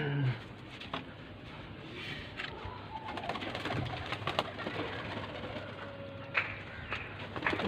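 Pigeons coo softly among low outdoor background noise where pigeons are being caught with a net in Faisalabad. Occasional faint knocks and rustles are also heard.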